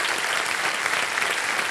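Studio audience applause on a Kaun Banega Crorepati game show stage, a loud, dense burst of clapping that sustains evenly for the whole moment with no voices over it.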